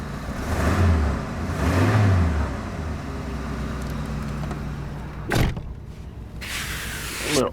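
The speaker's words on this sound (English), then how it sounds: "The car's humming along." A 1983 Oldsmobile Regency 98 Brougham hums along steadily from inside the cabin, a loud continuous low engine drone that swells slightly, with a couple of sharp knocks or clicks near the end.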